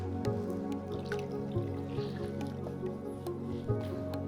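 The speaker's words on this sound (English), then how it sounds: "Grab a washcloth and wring it out over the basin so we don't drop any water on the floor or on the bed." A wet washcloth is wrung out over a water basin during a partial bed bath, giving faint drips and a soft trickle that are partly masked by a steady tonal background.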